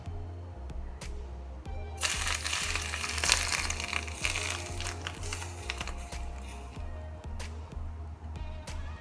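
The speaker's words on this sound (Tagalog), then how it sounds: "ang last part na ating gagawin is maglalagay tayo ng napaka-mainit na mantika" Very hot oil poured over steamed fish with brown peppercorn bursts into a loud crackling sizzle that swells and then settles into softer popping, over a low steady background hum.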